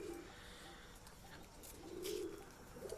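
Pigeons in a high-flying breeding loft, feeding very small chicks, give soft low cooing calls that come and go over a faint background hum.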